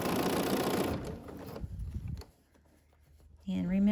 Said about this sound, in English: we're going to go all the way around with the twin needling, top stitching.